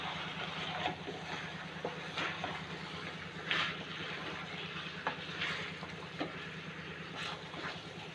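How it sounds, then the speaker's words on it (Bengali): Meat being sautéed (kosha) in a pan for biryani after its released water has cooked off, a steady low sizzle with faint scraping stirs recurring every second or so throughout. "এবার শুধু আমি মাংসটাকে কষাবো।"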